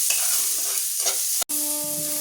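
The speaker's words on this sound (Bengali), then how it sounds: "মিডিয়াম আঁচেতে পেঁয়াজটা ভাজবেন" Onions frying over medium heat in a pan, crackling sizzle with scraping stirs close by, a brief cut near the end before a steady hum returns.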